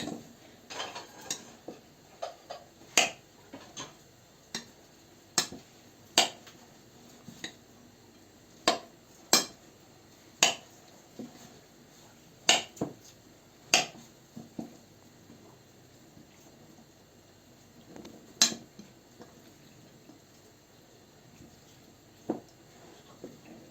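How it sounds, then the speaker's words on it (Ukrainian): A spoon scrapes and clinks against a bowl as a salad of braided cheese and Korean carrot is stirred, with sharp, irregular taps spread over the whole stretch, close and quiet, with no talking. "І тепер розмішуємо це."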